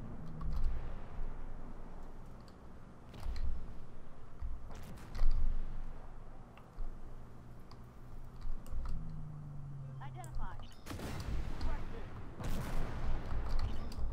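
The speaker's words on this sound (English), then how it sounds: "there's shots coming at me right now because I have no armor" Incoming gunfire in the tank game Armored Warfare: a run of cracking shots and impacts scattered across the stretch, some loud bursts near the end, over a steady engine rumble with someone talking.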